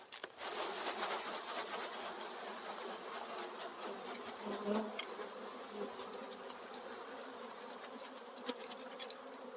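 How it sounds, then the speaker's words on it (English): Bees buzz loudly and continuously, a dense droning hum close by that fills the whole stretch without any voices. "we got some bees here"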